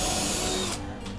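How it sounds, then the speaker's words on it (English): A power drill set to high speed whirs loudly drilling holes in kitchen cabinet doors, then cuts off abruptly, leaving a quieter mechanical tail. "Flip it in high, and then I'm gonna drill out my holes."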